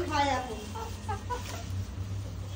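A brooding hen sitting on her eggs clucks in short, low, close-up calls, with a person talking over and between the calls.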